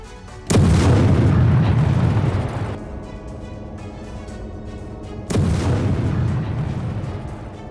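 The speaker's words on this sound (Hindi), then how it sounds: "पूरी रात इजरायली सेना की आर्टिलरी यूनिट बड़ी इमारतों को निशाना बनाती रही और हमास के ठिकानों पर गोले दागती रही" Israeli artillery shelling and explosions in Gaza at night, two heavy booms a few seconds apart, each a loud sudden blast with a long rumbling decay.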